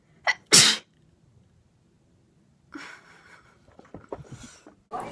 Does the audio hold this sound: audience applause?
no